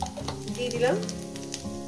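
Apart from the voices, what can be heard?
cumin seeds sizzling in hot oil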